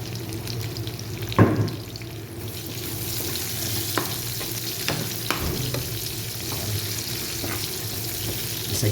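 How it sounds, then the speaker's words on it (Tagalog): Onions sautéing in a hot pan, a steady close sizzle and frying crackle with occasional stirring scrapes and knocks of the utensil, continuous throughout with no voices. "Gisa-gisa lang muna tayo mga guys."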